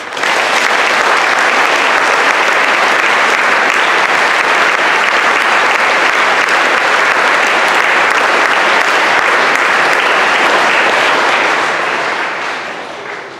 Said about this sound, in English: Let us applaud her.